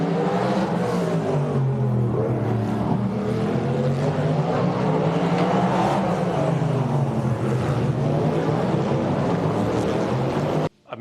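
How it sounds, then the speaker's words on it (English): A Cadillac naturally aspirated V8 race car engine at Le Mans roars loud and close, its pitch rising and falling in long sweeps as it revs, sustained for about eleven seconds before cutting abruptly. "American V8s are known around the world for their noise, and they're known around the world for their power"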